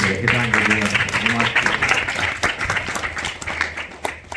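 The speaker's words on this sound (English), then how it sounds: "Let's give a big clap to this master." An audience at a motivational talk by a CEO applauds a speaker, a dense wash of clapping with voices talking over it, loud throughout and tapering slightly near the end.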